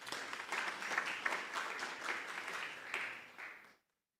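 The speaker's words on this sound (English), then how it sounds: "Let's give him a round of applause." Audience applause fills the hall at the SAPS and DHET launch of a Campus Community Safety Forum at Sefako Makgatho University, a steady, fairly distant wash of many hands clapping that fades out abruptly near the end.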